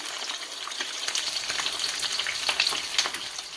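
Steady crackling sizzle of Jamaican escovitch fish frying in hot oil, with scattered pops and spits over a continuous hiss, moderately close.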